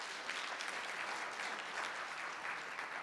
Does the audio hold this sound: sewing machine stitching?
no